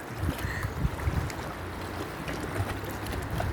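Ocean waves wash onto the beach at Currimao in a continuous, moderately loud rushing surf with soft swells and wind noise, and no voices are heard.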